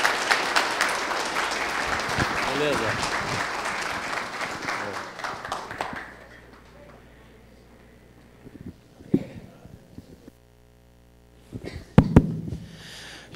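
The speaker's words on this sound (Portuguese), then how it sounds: "eu peço uma calorosa salva de palmas" Audience applause for a lecture speaker at a UFO talk in Brazil, a sustained wash of clapping from a crowd lasting about six seconds, then fading into quiet room noise with a few soft knocks and a brief spoken word.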